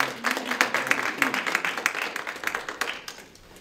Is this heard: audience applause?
yes